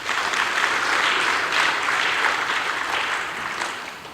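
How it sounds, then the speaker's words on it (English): A crowd at a summit applauding, a dense sustained patter of clapping that holds steady for several seconds and then tapers slightly. "I would like us to give them a round of applause for that initiative"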